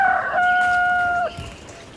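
A rooster in a chicken house crows once, loud and close, a drawn-out cock-a-doodle-doo that cuts off sharply and is followed by faint clucking.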